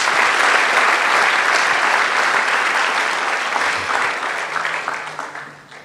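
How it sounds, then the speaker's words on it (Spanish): Congregation applauding in a church service, a dense steady wash of many hands clapping at close range that holds for several seconds and tapers off at the end. "¿Cuántos se atreven a aplaudir el nombre de nuestro Dios?"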